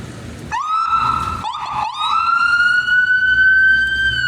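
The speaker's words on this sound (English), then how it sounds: "Now there's a siren coming, so I don't even think I can cross until it's gone." An emergency vehicle siren wails past on the Danforth on a misty November evening, a loud rising-and-falling tone that dips twice early on, then holds a long, steady, slowly climbing wail with traffic rumble beneath and no talking.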